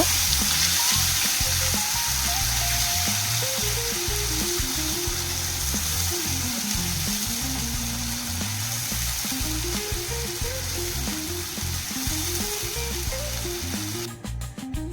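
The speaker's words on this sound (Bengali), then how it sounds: "তেল ভালোভাবে গরম হয়ে গেছে এর মধ্যে মশলার পেস্ট দিয়ে ভালো করে ভেজে নেব" Spice paste fries in hot mustard oil in a wok, a continuous close sizzle with steady crackling, overlaid by a low repeating hum and occasional scraping stirs, with no talking.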